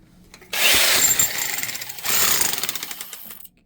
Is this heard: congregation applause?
no